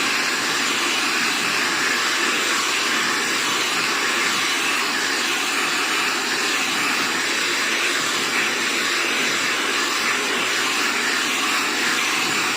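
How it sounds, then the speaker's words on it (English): A hair dryer blows a Keratin Express treatment into hair, a loud, steady broadband whoosh running continuously from start to finish at close range, with no talk over it. "This is me blow drying the Keratin Express into her hair."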